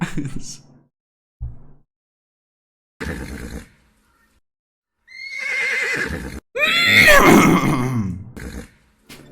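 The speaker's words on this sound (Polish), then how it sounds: "Dźwięk, osioł dźwięk. Odgłosy zwierząt dla dzieci." A donkey brays in a loud, harsh, rising and falling call, preceded by a few short broken vocal bursts.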